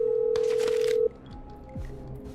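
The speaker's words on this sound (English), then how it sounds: "Okay, I'm dialing." A single steady dial tone from an in-game telephone, then a quick run of dialing tones cut short as the line clicks over, with faint background hum behind it.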